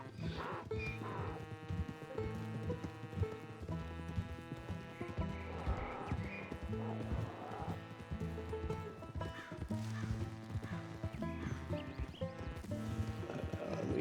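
Mule hooves clip-clop in Red Dead Redemption 2 beneath a steady bed of game music and ambience, the footfalls partly masked by the music, with an occasional animal call and no clear talking.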